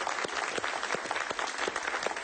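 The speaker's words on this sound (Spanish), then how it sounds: "Un aplauso para él." A studio audience claps briefly for a guest on a late-night talk show, a short burst of crowded, rhythmic clapping heard without any voices.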